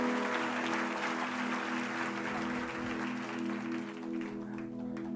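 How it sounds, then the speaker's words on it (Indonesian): Church congregation applauding steadily throughout, broad and sustained, with a low sustained tone from music or the sound system running underneath. "Kasih tepuk tangan."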